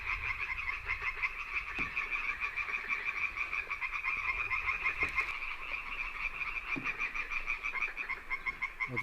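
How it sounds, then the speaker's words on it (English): Frogs croaking everywhere in the Albanian countryside, a dense, continuous chorus of rapid pulsing calls, moderately distant and steady, with no talking. "There are frogs everywhere."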